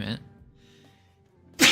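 A single loud, close sneeze bursts out at the end, following a brief spoken word and a quiet pause.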